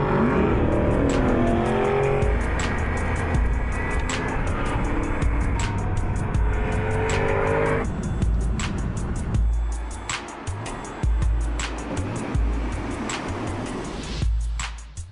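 An Aston Martin V8 Vantage S drives hard in sport mode, its engine loud and close, revving and accelerating with tyre squeal and shifting pitch as it passes, and no talking.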